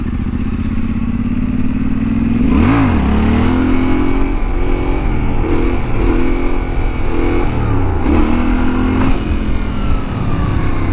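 A Yamaha Tenere 700 motorcycle engine revs loudly and close during wheelie practice, rising and falling in repeated throttle blips with a sharp surge early on and several shorter bursts after.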